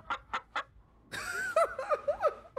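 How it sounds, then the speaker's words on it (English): Video game chicken gives three quick clucks, then a louder burst of squawking and cackling calls, close and clear. "Thank you, chicken."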